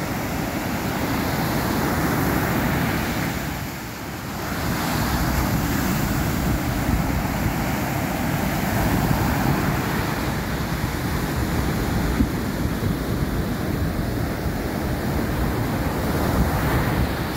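Steady ocean surf rolls and crashes at Pagudpud's Blue Lagoon beach, a continuous broad wash of waves with wind buffeting the microphone and a brief dip in loudness early on.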